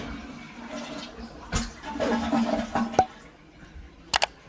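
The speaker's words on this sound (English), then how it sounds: "that's the single flush, and the white is on the right, that's the dual flush" A household toilet with a newly repaired flush valve seal runs a short dual flush, with watery gurgling and rushing that swells and then fades, followed by a few sharp clicks near the end.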